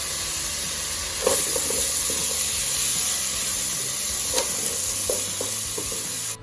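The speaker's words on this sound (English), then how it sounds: "we're going to just chuck the onions and peppers in and then cook them through." Onions and peppers fry in a hot pan with a constant loud sizzle, broken by a few clacks and scrapes of stirring; no voices.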